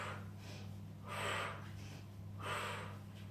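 Two slow, audible breaths, each a drawn-out airy exhale, pace a single leg stretch during a core workout, with a low steady hum underneath and no talking.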